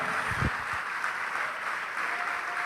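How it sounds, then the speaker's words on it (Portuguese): A church congregation applauds in praise to Jesus. Dense, steady clapping fills the whole clip at close range, with a brief low murmur near the start. "E vamos aplaudir ao Senhor Jesus por cada vida que está chegando"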